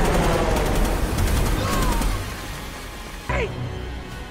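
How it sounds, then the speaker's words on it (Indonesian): Helicopter machine-gun fire raking a group in the action film Shooter, a dense, loud burst of rapid shots over movie score for about two seconds, then quieter rumble with a sharp whooshing hit near the end. "heli tersebut menghujani mereka dengan tembakan"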